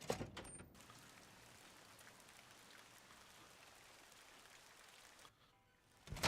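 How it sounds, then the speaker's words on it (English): Steady rain falling in the video game Fallout: New Vegas, a soft continuous hiss on its own, with a brief muffled knock near the start and a quieter gap near the end. "It's still just raining out here."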